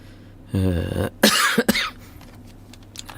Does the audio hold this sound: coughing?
yes